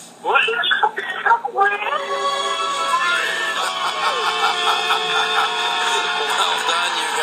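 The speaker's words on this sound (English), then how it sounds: "Let's hear a great debt-free scream." People scream loudly in celebration over a phone line, the sound harsh and distorted, after a brief moment of talk.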